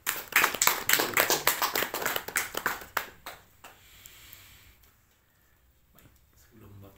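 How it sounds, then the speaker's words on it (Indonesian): A small group claps at a 14th birthday gathering with a pastor, with brisk, dense applause close by that thins out and fades over a few seconds into near silence before a voice begins. "Kita beri tepuk tangan buat Oci."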